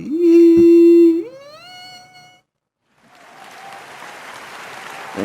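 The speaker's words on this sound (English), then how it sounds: "Hold your applause." Audience applause rises as a steady crackling wash in the second half, after a sustained synthetic tone that glides upward and fades, with a brief silent gap between them.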